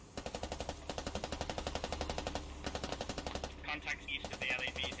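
In the military shooter Squad, automatic gunfire rattles out in rapid, sustained bursts, then breaks into sparser shots and a short lull with faint radio-like noise near the end. No words are spoken.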